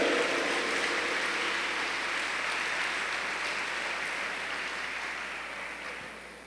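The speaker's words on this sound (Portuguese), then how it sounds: "Você pode aplaudir Jesus por isso?" Dense applause from a church congregation fills the space as a steady wash of clapping, slowly fading toward the end.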